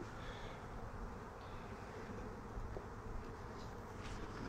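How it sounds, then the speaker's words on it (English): Honey bees buzz steadily around an open hive where they are feeding and storing honey, a dense, even drone close to the microphone with no talking. "You see the bees are hanging out here."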